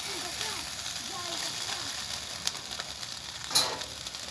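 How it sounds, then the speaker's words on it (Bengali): Soybean chunks frying in oil give a steady, moderately quiet sizzle with a few brief stirring scrapes and clinks near the end. "তো আমার সয়াবিন ভাজাটা হয়ে গেছে, বেশি ভাজবো না।"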